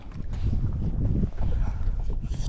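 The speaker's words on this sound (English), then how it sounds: "And the wind's picking up too." Strong wind roars steadily across a lake around a kayak during a fishing tournament, with close buffeting gusts on the microphone and the rush of water throughout.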